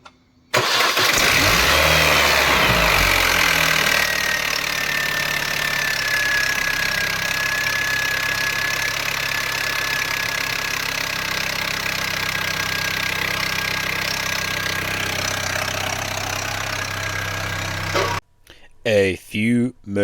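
A neglected R53 Mini Cooper S with a split hose starts up loud and rough, then settles into a steady, harsh idle for about eighteen seconds before cutting off into brief handling noise.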